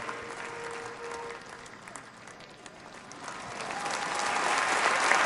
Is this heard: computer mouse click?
no